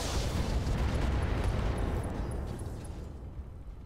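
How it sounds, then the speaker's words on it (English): A heavy, rumbling ammo explosion in the video game Roguetech roars and crackles, then slowly fades into a lingering low rumble with faint scattered pops. "Lots of ammo explosions, though."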